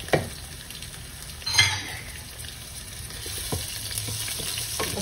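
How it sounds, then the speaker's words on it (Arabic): Onion with garlic added sizzles in oil in an electric pressure cooker, a steady frying hiss broken by a few sharp spoon scrapes and clinks against the pot. "شوفوا ان البصل بدا ياخذ معي لون، عشان انزل الثوم"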